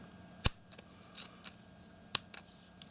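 Worn, not-so-sharp scissors snip paracord in a few quick, crisp cuts, two standing out clearly, with small handling clicks between them in a quiet room.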